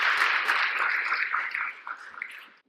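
Conference audience applauding to welcome a speaker at a professional event, a steady wash of clapping that starts full and tapers off over a few seconds, heard alone without talk.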